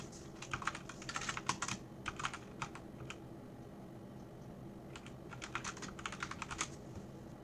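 Quick bursts of typing on a computer keyboard, light clicky keystrokes in uneven runs with short pauses between them, close and quiet.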